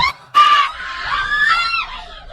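Trolleybus passengers scream in terror at a fire, with high, desperate shrieks and cries bursting out close and loud over a short span.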